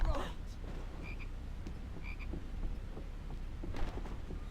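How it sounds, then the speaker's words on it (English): Frog croaking in the video game Harry Potter Prisoner of Azkaban, a few short faint croaks spaced about a second apart over a rustling, noisy ambience. "A frog! I found a frog!"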